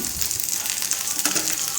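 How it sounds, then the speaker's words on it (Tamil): Fish fries on a hot dosa griddle, a close, steady crackling sizzle with no talking. "பக்கத்து அடுப்பில் நான் பொரிக்கிறதுக்கு மீன்"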